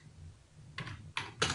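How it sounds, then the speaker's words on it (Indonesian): A few quick clicks of a computer keyboard, quiet and near, with two or three sharp keypresses over a low hum and no talk. "tekan huruf D di keyboard"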